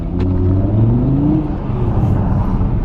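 A 2019 Audi TT RS engine hums steadily from inside the car, with a low rumble and a rising tone as it gains speed in sport mode, loud and continuous throughout.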